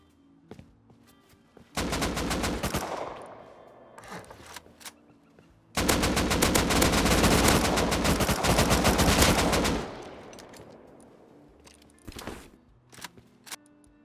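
An AK fires in a Roblox Bedwars game, two long sustained automatic bursts, the second lasting about four seconds, then a few scattered single shots, loud and up close with no talk.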